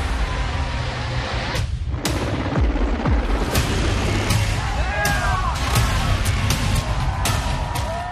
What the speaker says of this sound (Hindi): हवा में गोलियां चलाने की आवाज है।